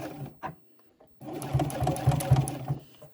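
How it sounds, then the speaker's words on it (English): A sewing machine stitches back and forth over a zipper connector on a beginner zipper pouch, running in a loud, steady burst after a short quiet pause with a few faint handling clicks. "you just want to go over this connector a couple of times back and forth"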